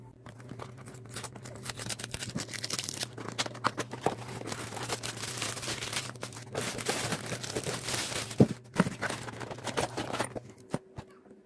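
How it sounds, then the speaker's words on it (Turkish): Packaging of a Piranha PSD 2215 cordless palm screwdriver being opened, with crinkling, rustling and tearing of plastic and cardboard, steady and fairly close throughout, plus a few sharper crackles near the end. "Evet şimdi paketi açalım ve ürünümüzü bir inceleyelim."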